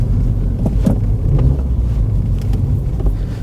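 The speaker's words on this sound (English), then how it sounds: "Can you hear it rev matching for you?" A 2021 Mini Cooper S with a muffler delete rumbles from inside the cabin with wind buffeting, its note rising and dipping in brief surges as it rev-matches on downshifts.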